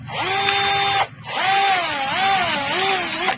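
Power drill boring holes for electrical wire, two close bursts of steady whine, the second with a wavering pitch as the bit bites, loud and close with no talk.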